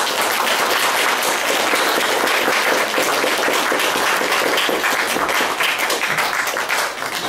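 A concert hall audience at a community cultural centre applauds steadily, a loud, dense wash of many hands clapping that holds at full strength throughout, fading only slightly at the very end.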